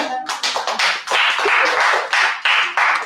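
A church congregation clapping in rhythmic bursts to acclaim God, loud and close, with brief pauses between rounds of applause.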